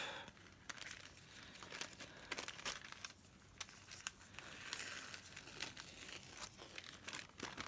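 A glassine bag is peeled off a journal page, giving close, faint crinkling and crackling with sharp little tearing snaps scattered through. No voice is heard.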